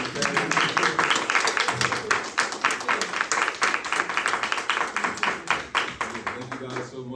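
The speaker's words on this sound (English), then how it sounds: "I would like to incite a round of applause for our lovely family." An audience at a mental health and wellness panel discussion claps in dense, steady applause for the full stretch, with voices mixed in under the clapping.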